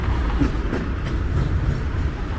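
A newer tram rolls past on the street in Sofia, a steady close rumble of rail wheels with faint clickety-clack over the tracks, heard alone without talk.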